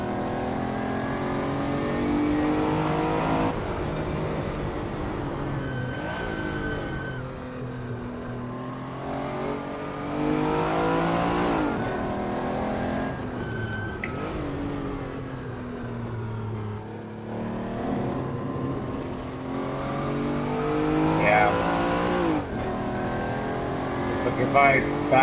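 A Porsche engine in the Assetto Corsa racing game revving and droning continuously with rising and falling pitch as the car accelerates and shifts, someone talking over it throughout.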